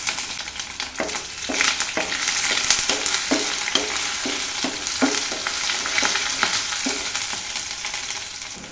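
Green chili, ginger and garlic sizzle in hot oil over a medium flame, a steady close frying crackle broken by regular scraping strokes of a stirring spoon, with no talking.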